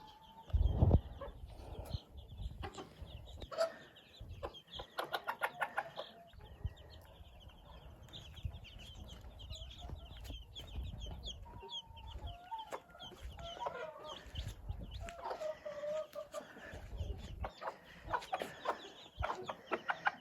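Hens cluck and chatter steadily at close range, with a rooster crowing briefly and other farmyard birds calling in the background.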